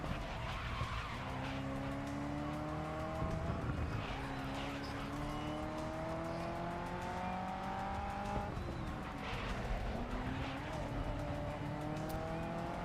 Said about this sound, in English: the engine sounds are really quiet